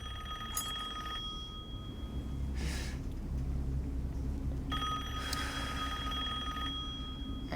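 Telephone in Resident Evil Village rings in two electronic bursts separated by a pause, steady and moderately loud over low game ambience, with no talking.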